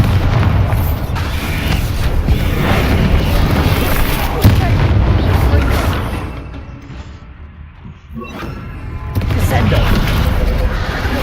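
Spell blasts from Bombarda and other combat magic in the Hogwarts Legacy video game, loud booming explosions and impacts in a dense battle mix, with a brief lull before the blasts resume.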